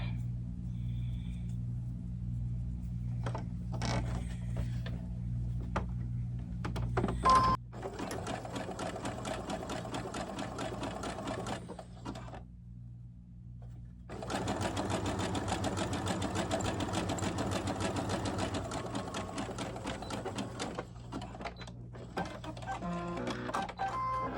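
A sewing machine stitches down the back of an 18-inch doll T-shirt in two long, steady runs of whirring separated by a quiet pause, with a low hum underneath throughout.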